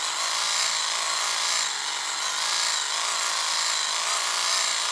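A hand-cranked fuel pump filling the tank of a Kadet LT-40 model airplane, making a steady, loud whirring hum that stays even throughout with no talking.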